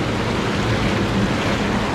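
Air jets in a garden hot tub churn the water, a loud, steady bubbling rush that stays constant throughout with no talking.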